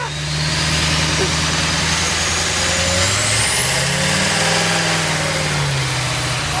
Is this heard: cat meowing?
no